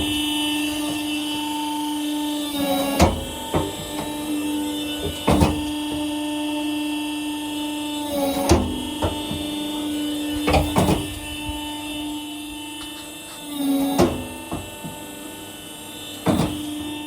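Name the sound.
Falach 20 sawdust briquette press whirring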